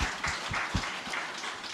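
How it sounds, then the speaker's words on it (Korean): A congregation at a Catholic healing Mass claps in quick rhythmic bursts, a faint, somewhat distant patter of hands with no voices over it. "하나님께 영광의 박수 드립니다."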